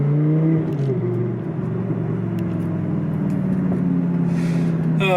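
An Audi R8 V10 engine drones loud and steady in a tunnel, its deep harmonic note sustained and shifting slightly in pitch as the revs hold, echoing off the walls with no talk.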